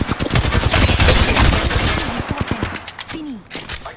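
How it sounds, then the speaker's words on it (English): Rapid bursts of automatic gunfire crackle in the Apex Legends battle royale as incoming fire hits a player, loud and dense before thinning out into sparser shots and impacts. "I am taking fire."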